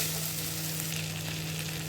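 Potatoes seasoned with turmeric and salt fry in a pan, giving a continuous dense sizzle with a steady hum beneath, close and even, with no voices.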